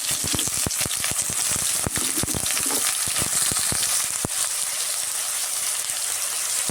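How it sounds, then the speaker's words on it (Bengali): Cut eggplant and potatoes frying in mustard oil with salt and turmeric, a loud, steady close sizzle with dense crackles and pops throughout, no voices. "এর মধ্যে আমি এই যে কেটে রাখা বেগুন আর আলুগুলো একটু ভেজে নেব লবণ হলুদ দিয়ে"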